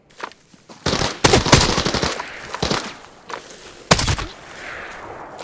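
Automatic gunfire from the shooter game Arena Breakout Infinite, loud rapid bursts that come in several clusters, with sharp single reports between them and no talk.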